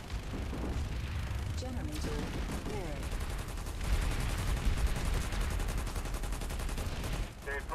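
Heavy gunfire rattles through a battle in the sci-fi shooter Planetside 2, with dense overlapping bursts that swell louder midway, while someone talks over the shooting.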